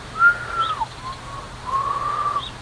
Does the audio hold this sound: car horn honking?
no